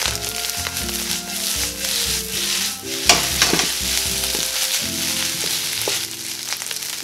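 Kimchi fried rice stirred in a wok, a loud, busy sizzle with rhythmic scraping and tossing strokes throughout, one sharp knock near the middle, and a low mechanical hum underneath.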